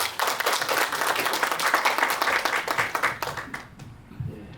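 Audience applause welcoming a keynote speaker at a forum in New York, steady dense clapping from a hall of people that tapers off at the end.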